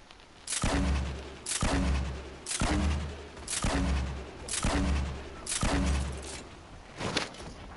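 Combat in a shooter video game, with heavy blasts from grenades and gunfire repeating about once a second, roughly seven loud, close bursts in a steady rhythm, each fading briefly before the next.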